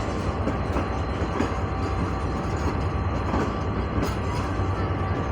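A Lahore–Rawalpindi rail car train rolls along at Multan station with a steady low rumble and faint rhythmic clatter of wheels on the rails, continuous and fairly close.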